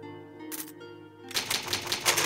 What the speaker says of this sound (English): Old typewriter. You can save your progress.